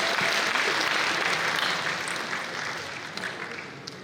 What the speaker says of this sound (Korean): 박수 한번 입장에 보내주십시오